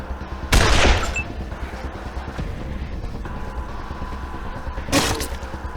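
Gunfire in the game Wasteland 2: one loud burst of shots near the start, then a quieter stretch and a second short burst of shots near the end.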